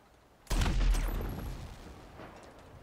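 Bullet and missile fire from the Oppressor in a video game: one sudden loud blast with a rolling roar and crackle that slowly fades over about two seconds, no voices.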